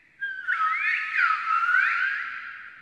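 Silbo Gomero, the whistled language of La Gomera, rings out as a single sustained whistled phrase of rising and falling gliding tones, loud and clear with no voices around it.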